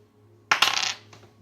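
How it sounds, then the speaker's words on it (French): Dice rolled for a board game, a short hard rattle and clatter of a couple of quick impacts settling on a surface, close and alone. "Et le tirage de dés."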